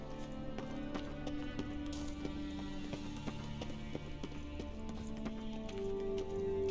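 A rocking horse in the Witcher 3 video game produces a steady clip-clop of hoof-like knocks over low game ambience and music, with no talk.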